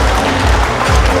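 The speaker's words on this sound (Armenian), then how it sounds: "ծափերը բարձր" Wedding guests clapping together as the bride's and groom's parents are called forward, a loud, dense, continuous burst of applause with no pause.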